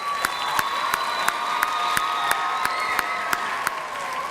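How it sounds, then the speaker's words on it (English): An audience at a school district's college and career pathways kickoff event applauds in a dense, steady wash of clapping lasting several seconds, with faint cheering mixed in. "We also have a round of applause for our public schools school committee here with us."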